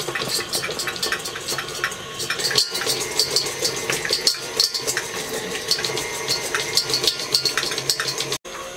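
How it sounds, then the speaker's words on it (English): An electric mixer creams a cup of butter in a bowl for cookie dough, a steady busy whir with scraping, clinking texture throughout, briefly cutting out near the end. "so I finished whipping my butter"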